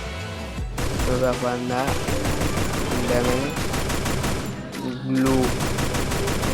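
Rapid automatic gunfire rattles almost without pause in a shooting video game, dense and loud with brief gaps, while a voice speaks over the shots.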